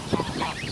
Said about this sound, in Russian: Вот они, гуси тут.